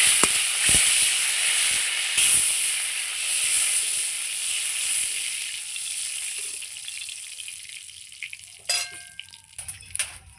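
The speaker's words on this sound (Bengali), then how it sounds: "এদিকে কড়াই গরম হচ্ছে আমি মাছের তেলটাই ছেড়ে দিলাম" Fish oil heats and starts to sizzle in a wok set over a clay stove while fish is cooked for a curry, giving a steady frying hiss broken by a few sharp knocks and clatters near the end.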